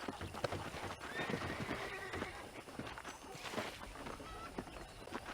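Horse in Red Dead Redemption, with steady clip-clopping hooves and a whinny rising over them, heard at moderate distance.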